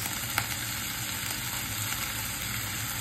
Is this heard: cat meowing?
no